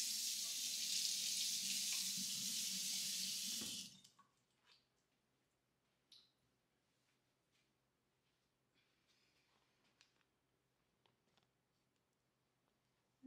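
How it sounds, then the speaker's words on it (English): A cake scraper rinsed under a running kitchen tap, a loud steady rush of water for a few seconds that cuts off abruptly, followed by faint drips and small clinks in a quiet room. "Rinse it off."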